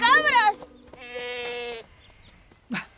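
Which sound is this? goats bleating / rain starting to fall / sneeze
goats bleating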